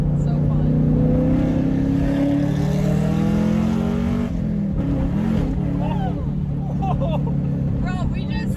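A manual Chevrolet Camaro engine held at full throttle roars loud and close, its droning pitch climbing steadily, then breaking into rougher bursts as the car lands and spins, with a person talking over it.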